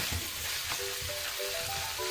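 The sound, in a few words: fried onions and spices sizzling while stirred in pan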